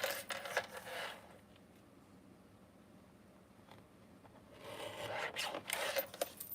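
Paper being trimmed straight for a Christmas card journal, with two bursts of dry rasping cutting near the start and end and a quiet pause between, close and alone.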